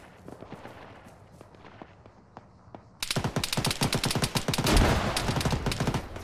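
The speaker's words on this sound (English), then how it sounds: "There's a contact uphill shooting at us" Enemy gunfire pours down from uphill in the ShackTac Arma video game: sparse distant shots at first, then a sudden loud stretch of dense rapid automatic bursts and fusillades, with no talking.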